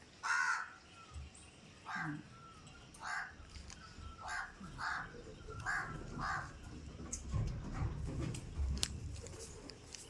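Crows caw repeatedly in short harsh calls at an uneven pace, moderately distant, with outdoor background noise and a faint dog nearby.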